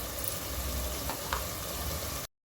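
Homemade masala spooned into dal khichdi sizzling in a pan, a steady close frying hiss with a couple of brief scraping stir sounds, no talking.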